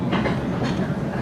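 An Oil Creek & Titusville Railroad passenger train runs along the track with a steady low rumble and faint rhythmic clacks of the wheels, heard close and continuous for a brief moment.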